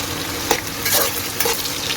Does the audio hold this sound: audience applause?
no